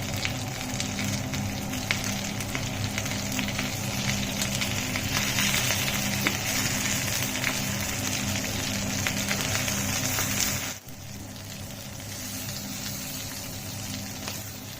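Chicken pieces fry on a hot tawa with a continuous crackling sizzle, loud and even, which drops slightly in volume partway through and then carries on steadily.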